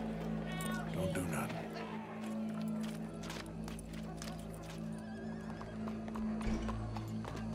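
Horse hooves clip-clop along with a clear whinny in the Red Dead Redemption 2 Wild West game, set over a steady low rumble with crowd murmur and talk in the background.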